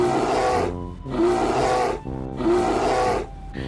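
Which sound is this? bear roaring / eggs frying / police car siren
bear roaring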